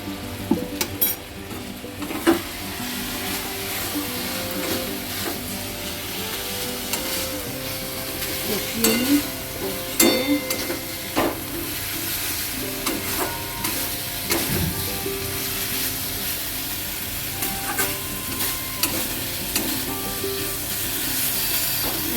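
Kashmiri red chili masala for chana masala (ghugni), cooked in a little oil with a splash of water, sizzles steadily in the pan while being stirred, with scraping and rubbing strokes scattered through and no talking.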